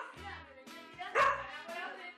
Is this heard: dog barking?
yes